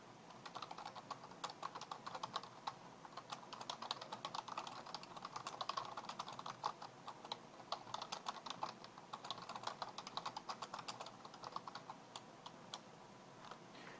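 Fingers tap steadily on a computer keyboard in fast, irregular bursts of light clicks, faint and close, entering text into a spreadsheet cell.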